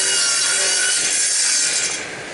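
A radial arm saw cutting through wood in a workshop, giving a loud, continuous bright rasp that lasts the whole moment and eases slightly at the end.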